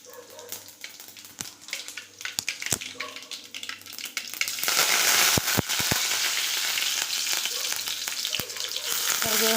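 Mustard seeds and curry leaves go into hot oil for onion palle. Scattered sharp pops come first, then a loud, continuous close-up sizzle takes over about halfway through, dotted with crackles.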